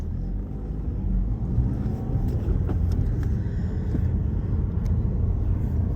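A car drives through a community college campus in Flint, Michigan, in January, with a steady road rumble and engine drone heard from inside the cabin throughout.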